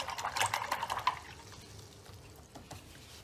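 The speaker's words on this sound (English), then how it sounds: "this is a time to rinse your brush off" A watercolour paintbrush swished in a water jar gives a few soft, quick splashes and trickles, faint and close, fading into near quiet.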